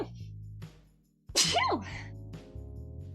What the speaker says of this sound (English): I'll have to sneeze.